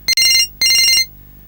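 A phone ringtone chirps in two quick bright electronic bursts separated by a short gap, close and loud in a quiet room.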